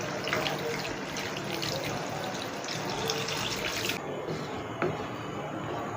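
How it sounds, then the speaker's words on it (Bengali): A glass of water runs into a pot of chicken gizzards and livers in a home kitchen, giving a steady close pouring rush that ends abruptly near four seconds, followed by faint drips and a small clink. "সাথে 1 গ্লাস পানি মিক্স করে দিচ্ছি।"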